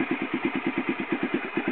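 Honda XR650L single-cylinder motorcycle engine idling through an old Supertrapp IDS muffler, a steady, close, rhythmic low thumping pulse with no talk.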